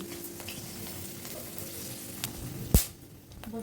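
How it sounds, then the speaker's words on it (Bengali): Dried red chillies drop into hot mustard oil, giving a low background sizzle and then a sudden sharp hiss that flares loudly and fades into quieter frying. "তেলটা গরম হয়ে গেছে, এবার শুকনো লঙ্কাটা তেলে দিয়ে দিচ্ছে"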